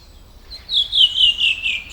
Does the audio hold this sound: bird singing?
yes